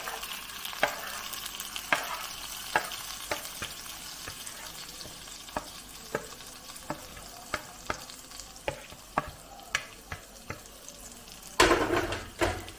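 A spoon stirs egg, sautéed onion, tomato and ginger-garlic paste together in a frying pan: a steady low sizzle broken by sharp, regular scrapes and taps roughly every second, with a louder flurry of scraping near the end.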